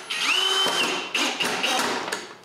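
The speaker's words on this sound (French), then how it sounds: "Après avoir coupé les bras de force, si on peut dire, là, je les visse en place." A power drill drives screws into wooden braces on a folding outdoor workbench, whining up in pitch and down again in a couple of loud, close bursts.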